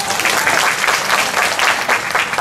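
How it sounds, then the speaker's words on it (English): Dense audience applause at a rural Alzheimer's talk, steady and loud throughout with no breaks. "by round of applause"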